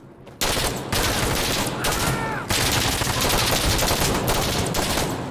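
Sustained gunfire from the video game Insurgency: Sandstorm, loud and dense bursts running almost continuously with two brief gaps.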